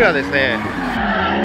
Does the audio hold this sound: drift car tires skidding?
yes